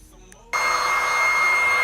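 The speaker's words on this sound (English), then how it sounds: "you want to hit it with a hairdryer on high, of course, as we are doing here" A hair dryer on high switches on abruptly and blows with a loud, steady, high-pitched roar close to the microphone, heating a windshield banner during installation.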